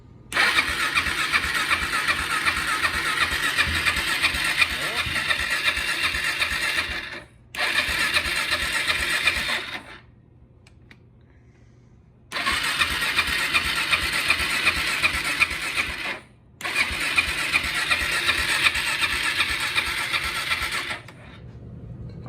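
A Kawasaki KFX 400 ATV engine with a newly installed carburetor cranks and runs in four loud, close bursts, each lasting several seconds. Short quiet gaps fall between them, with a faint low hum under the pauses.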